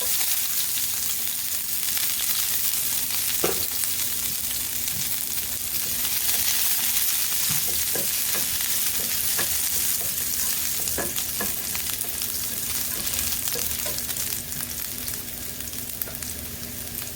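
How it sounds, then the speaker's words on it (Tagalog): Garlic fries in hot olive oil in a pan for a spicy tofu and vegetable stir fry, giving a steady close sizzle with occasional stirring clicks and scrapes, no talk. "So, lalagay na natin ang ating garlic."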